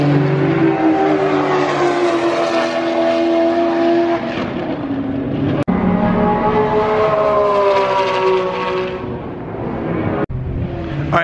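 Sports cars including a red Porsche GT2 RS and a Lamborghini Aventador SVJ revving hard on a race track, loud sustained engine notes rising and falling in pitch with abrupt gear shifts.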